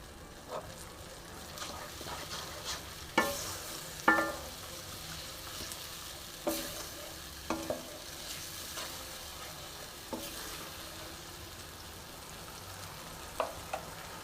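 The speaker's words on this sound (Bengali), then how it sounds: "মশলার সাথে ভালো মতন কষে নেব" Spices and yogurt fry in a pan for potol doi dal, a low steady sizzle broken by scattered scraping clinks of a spatula stirring, with a few louder knocks.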